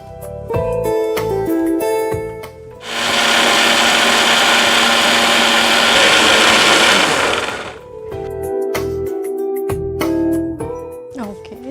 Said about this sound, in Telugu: ఈలోపు మనం మిక్సీ పట్టేసుకుందాం.